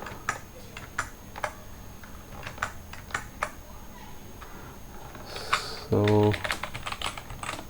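Someone types Python code on a computer keyboard, with sparse, distinct key clicks spaced at an unhurried pace, close and fairly quiet, followed by a short spoken word near the end.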